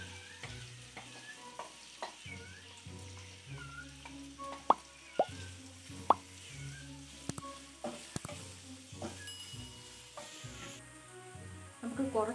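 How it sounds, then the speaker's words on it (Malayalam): Sliced onion tossed into hot oil in a pan for butter chicken crackles and sizzles steadily. Scattered stirring clinks and plops sit over soft background music. "സവാള നമുക്ക് ഇതിലേക്ക് ഇടാം."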